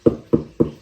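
Three sharp, hard taps of a fake tooth on wood, spaced evenly, each a short knock with a brief woody ring, close and clear with no talking.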